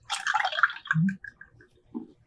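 Cold brew tea mixture is poured into a cup, giving a short run of light splashing and trickling followed by a few soft drips, quiet and close.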